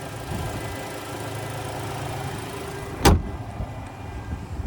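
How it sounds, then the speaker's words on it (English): A 2025 Ford Maverick's 2-liter turbo four idling with the hood open, a steady low engine hum close by, broken by one sharp click or tap partway through. "there's that 2-liter turbo 4"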